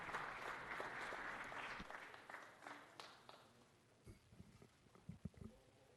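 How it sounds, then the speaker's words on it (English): Applause in city council chambers, fairly faint and thinning out into scattered individual claps toward the end. "Give him one more round of applause."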